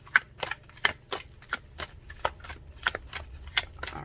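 Tarot cards being shuffled by hand, a close series of soft papery slaps and riffling clicks in an irregular rhythm, fairly quiet, with no talking.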